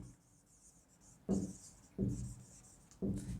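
Three short bursts of pen scratching on paper, each a second or so apart, as a maths solution is written out, quiet and close against a faint background hiss.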